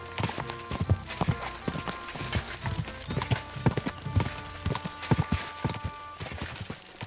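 Horse hooves clip-clop steadily in Kingdom Come: Deliverance II, a regular trotting rhythm of distinct sharp strikes that continues throughout at moderate volume.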